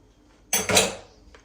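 A metal spoon clanks sharply against a cooking pot during tasting, one loud double strike that rings briefly and fades, followed by a faint tap.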